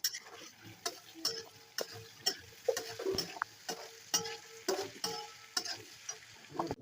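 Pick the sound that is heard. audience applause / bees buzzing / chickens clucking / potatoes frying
potatoes frying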